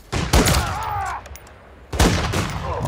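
Gunfire in Call of Duty Modern Warfare 3: two loud, close bursts of rapid shots about a second and a half apart, each trailing off into echoing rumble.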